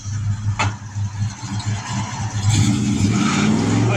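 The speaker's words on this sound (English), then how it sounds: "Hold the brake. Give it some gas." A 1973 Mercury Montego's engine is loud and close as the car does a burnout with the brake held, rumbling unevenly and then climbing into a rising rev.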